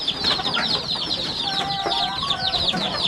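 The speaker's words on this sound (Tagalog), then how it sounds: "ito lang ating mga alagang sisiw" Pet chicks in a Philippine poultry pen chirp in a dense, continuous chorus of high peeping calls, close by and with no voices over them.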